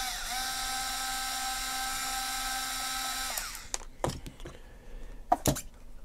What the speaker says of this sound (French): je travaille presque toujours avec un tournevis électrique